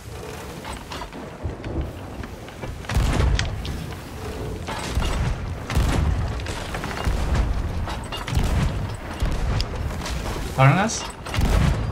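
Naval ships trade broadside cannon fire in a video game, with repeated heavy booms and crashing impacts scattered over steady rumbling while players talk throughout.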